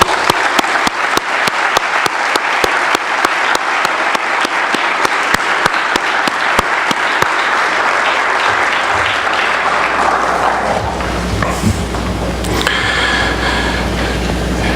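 Audience applause at a 2017 White Coat Ceremony welcoming the incoming medical class, steady loud clapping from a large crowd that fades out after about ten seconds, leaving room murmur and low rumble.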